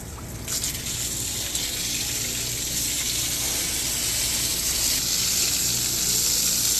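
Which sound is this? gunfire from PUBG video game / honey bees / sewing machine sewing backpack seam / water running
water running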